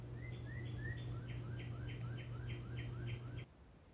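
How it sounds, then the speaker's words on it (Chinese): In the horror video game Fear Assessment Plus, a small bird repeats a quick rising chirp about a dozen times in a steady rhythm over a low constant hum, faint and fairly distant, then the ambience abruptly cuts off. "我只听到鸟叫声呢"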